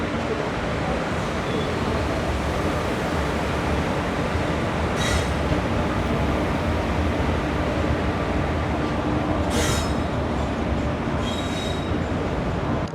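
A freight train hauling BFKN container wagons rolls past near Murudeshwar station with a constant loud rumble of wheels on rail. A few short metallic squeals and clanks cut through the roar.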